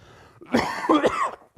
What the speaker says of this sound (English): I can get away with coughing.